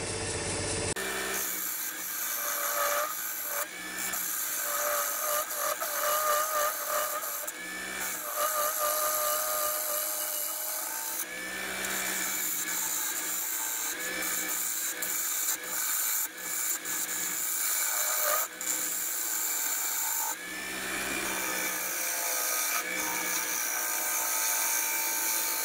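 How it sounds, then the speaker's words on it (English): A big walnut lump being turned into a bowl on a wood lathe, with a steady scraping, shaving rasp of the tool cutting the spinning wood, loud and continuous, with a few brief gaps where the cut eases off. "get a bit of shape on this big lump of wood. Lovely shavings."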